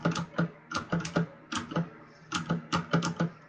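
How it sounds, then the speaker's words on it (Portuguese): Computer keyboard typed on hard and fast during a war strategy game session, with bursts of loud, sharp clacking keystrokes coming in quick clusters and brief pauses between them, close to the microphone. "Se estás a partir o teclado."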